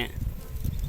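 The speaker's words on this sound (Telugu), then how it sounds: "ఈగలు చుట్టుకున్నాయి." Bees swarming over honey on a rock, a dense, steady buzz close by that swells and fades over a short moment with no voices.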